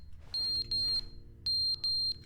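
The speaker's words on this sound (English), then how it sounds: "A fire alarm?" Fire alarm in the video game The Stanley Parable, sounding as two pairs of sharp, high electronic beeps, each pair quick and evenly spaced, moderately loud with a faint low hum beneath.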